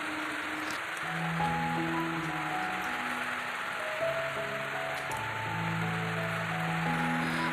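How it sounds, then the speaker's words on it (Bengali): Heavy rain falling steadily on a surface during a monsoon morning, a dense continuous hiss and patter of drops with no voices. "শুরু হয়ে গেল প্রচণ্ড পরিমাণে বৃষ্টি"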